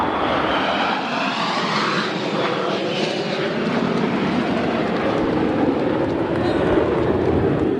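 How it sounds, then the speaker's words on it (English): An aircraft flies over the Bethpage Black golf course during the 2025 Ryder Cup, a loud, steady engine roar with a slowly shifting whine that swells throughout, while people talk underneath. "We've got a flyover."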